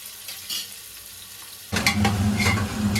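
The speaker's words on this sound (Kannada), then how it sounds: "ಕರಿಬೇವು ಹಾಕಿ ಸ್ವಲ್ಪ ಈರುಳ್ಳಿ ಕಲರ್ ಚೇಂಜ್ ಆಗೋವರೆಗೂ ಫ್ರೈ ಮಾಡ್ಕೋಬೇಕು" Onions, green chillies and curry leaves frying in a pan for a methi pulao, a quiet stir at first, then a loud, steady crackling sizzle with scraping stirs that sets in about halfway and keeps going.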